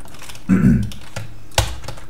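Computer keyboard keys clatter in a few close, distinct bursts while someone writes C++ code, with a loud thump midway.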